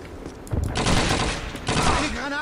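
Dense, continuous gunfire from the video game Call of Duty 2 crackles steadily in rapid volleys, with a voice faintly mixed in underneath.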